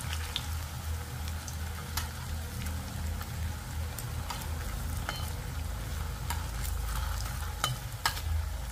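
Chopped beetroot stir-fried in a small amount of oil in a pan, giving a steady, soft sizzle with scattered crackles and stirring scrapes that run evenly throughout, with no talking.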